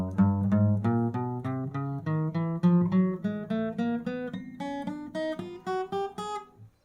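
Notes on a guitar whose strings are not pressed down properly, plucked one by one in a steady rising run of about fifteen clear, close tones, with no voices.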